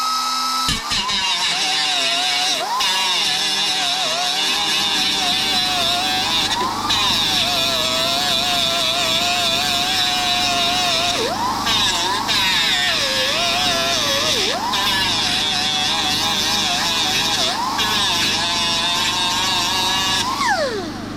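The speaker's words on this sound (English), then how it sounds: "if you want to be cool about it, then you take your grinder" A handheld grinder whines continuously against the hinge pin of an 82-92 Camaro door, its pitch dipping and recovering repeatedly as pressure changes, loud and close.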